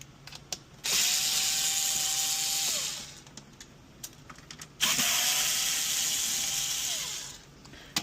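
A cordless screwdriver removes two screws from the back of a DeLonghi La Specialista espresso machine, two separate whirring runs of about two seconds each, with small clicks between them.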